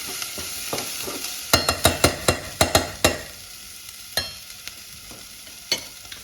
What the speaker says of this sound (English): It's still just sizzling away.